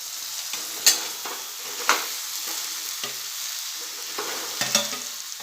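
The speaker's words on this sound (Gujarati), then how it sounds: "હવે બાફેલા બટાકા પણ એડ કરી દઈશું આપણે।" Boiled potatoes and chickpeas stirred in hot oil with turmeric in a pan for a pani puri filling, a steady sizzle broken by several scraping stirs of a spoon against the pan, close and clear, with no voices.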